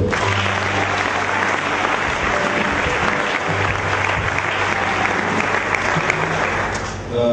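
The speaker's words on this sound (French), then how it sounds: "Acclamons pour eux." A church congregation clapping together during a service, a dense, sustained round of applause that stays loud and even for several seconds before tapering slightly at the end.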